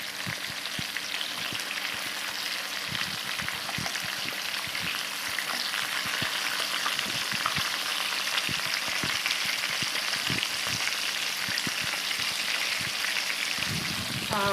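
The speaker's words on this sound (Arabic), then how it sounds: "الحوت قاعد يتقلي" Fish sizzles and crackles in hot oil in a pan for a Tunisian fried fish dish, a dense, steady frying hiss with scattered pops heard up close and uninterrupted.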